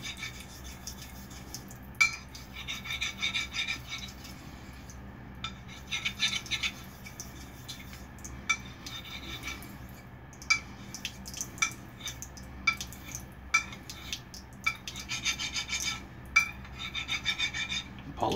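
A knife bevel is honed on a wet 5K Shapton whetstone in repeated rasping strokes, each stroke a short gritty rub, separated by brief pauses.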